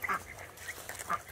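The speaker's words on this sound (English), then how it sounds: "this is fun trying to herd all these ducks into the coop." Khaki Campbell ducks being herded into a coop quack repeatedly, a few raspy nasal calls in a loose rhythm, moderately near but fairly quiet against outdoor ambience.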